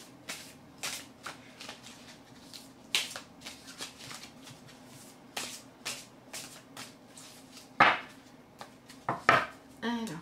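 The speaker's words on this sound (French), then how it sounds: "je tire la dernière petite carte conseil" An oracle advice deck being shuffled close up with soft papery riffles, followed by a few sharper snaps and taps as a card is drawn and laid down; nobody speaks.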